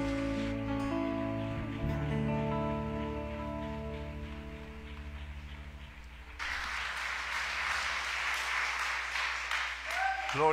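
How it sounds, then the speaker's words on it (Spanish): Church congregation breaking into applause after a Spanish-language sermon, a broad wash of clapping that swells in after a stretch of sustained music and voice, carrying on loud and dense to the end. "Dele un fuerte aplauso a Dios,"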